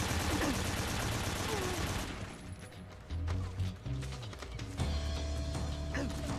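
Automatic AK rifle fire in Metal Gear Solid 3 on hard difficulty, heard as a dense sustained burst over the first two seconds, then sparser mechanical rattles and clicks with a music-like drone underneath.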